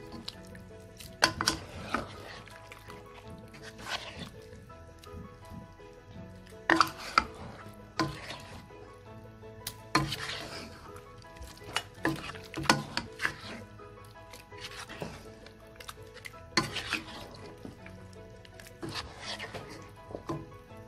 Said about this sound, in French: Bien mélanger tout ça.